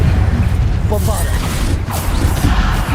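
Booming spell blasts from Bombarda in Hogwarts Legacy combat, a dense continuous roar of loud explosive noise with a voice breaking through partway.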